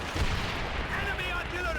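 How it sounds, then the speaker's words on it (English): Enemy artillery fire in the World War II shooter Call of Duty: WWII, a dense, continuous rumble of distant blasts and gunfire. Whistling tones sweep through it, and a voice may be talking underneath. "Enemy artillery."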